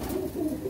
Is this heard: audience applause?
no